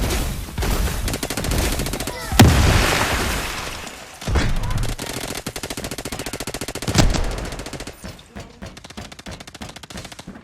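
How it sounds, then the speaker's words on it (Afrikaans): Rapid bursts of automatic gunfire from a video game shooter, several loud volleys with sharp cracks and booms at irregular intervals, trailing into quieter clicking shots toward the end. "Okay, hulle skiet."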